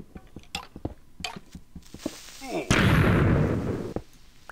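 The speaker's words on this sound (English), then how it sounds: "Why does creeper explode even though I'm so far away?" A Minecraft creeper goes off in a cave with a sudden loud, crackling blast that rumbles for about a second and a half, following a stretch of quieter clicks and footsteps.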